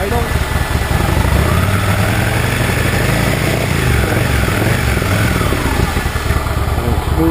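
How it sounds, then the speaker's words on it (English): A motorcycle engine idles, giving a loud, close, continuous throb with a steady low pulse and a slight vibrating buzz that never lets up. "Okay, motor's running."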